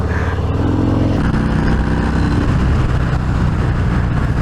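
A Harley-Davidson motorcycle accelerates under a rolled-on throttle, its engine a loud, continuous, close rumble with a shift in pitch partway through.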